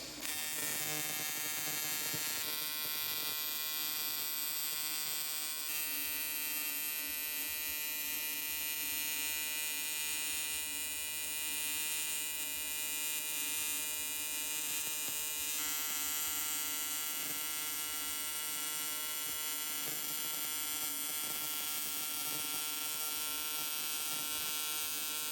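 Steady electric buzz and hum from welding on an LS Mustang turbo kit, continuous and fairly quiet with a constant tone, shifting slightly in character a few times, no talk.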